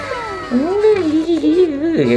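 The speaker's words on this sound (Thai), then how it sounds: "แมว แมวมาเป็นแมวเซเลบไหมออกกล้องหน่อย" A house cat gives a long, close, wavering meow that rises and falls, with a second short cry at the end and faint room noise behind it.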